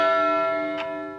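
A timer bell dings for a five-second switch in a Hex card game session, one bright sustained ring slowly decaying over about a second, with a faint tick partway through.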